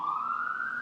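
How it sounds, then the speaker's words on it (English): Brief police-style siren wail, a single steady rising tone heard at a moderate distance against a city background. "Sirens."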